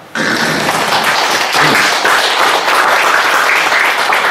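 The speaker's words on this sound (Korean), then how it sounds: "박수." Sustained applause from an audience at a parents' seminar, dense steady clapping that begins abruptly and holds at full strength throughout without fading.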